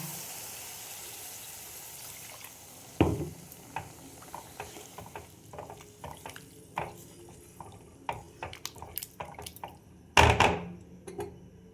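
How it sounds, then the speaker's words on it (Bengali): Rinse water from a mixer jar splashes into a hot pan of potato and brinjal curry, a sharp sizzling burst at about three seconds and another near ten, with scattered clinks and stirring taps in between. "এবার মিক্সি ধোয়া জলটা আমি দিয়ে দেবো।"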